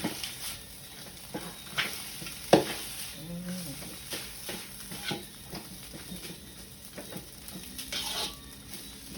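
Fermented pork fried rice being stirred in a pan, with repeated scraping and clatter of the utensil over a soft sizzle, close and moderately quiet, without talk.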